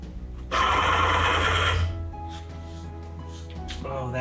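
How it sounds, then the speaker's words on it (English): A belt grinder sharpening a super steel knife runs with something rubbing against its belt, a loud harsh whine with grinding rasp for over a second, then drops to a lower steady motor hum with faint scraping. "Something was rubbing on the belt."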